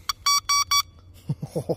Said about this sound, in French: Bon les copains, regardez Klaxon.